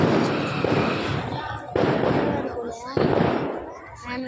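Firecrackers burst at a temple outing, three loud close bangs spaced about a second and a half apart, each trailing off in a crackling decay, with people talking around them.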